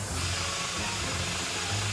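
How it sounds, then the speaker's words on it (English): A steady, breathy hiss as a 4WD's exhaust blows air continuously against rock over a low engine hum, close by, with no voices. "Oh, is that the exhaust, that noise?"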